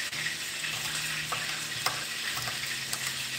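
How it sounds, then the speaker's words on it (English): Fish fries in a pan with a steady sizzle broken by scattered crackles and pops, heard alone without talking. "That fish frying now"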